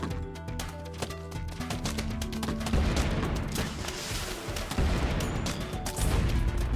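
A cob cannon firing in the Plants vs Zombies Fusion video game, booming blasts and crashing impacts layered over busy game music and effects, fairly loud throughout.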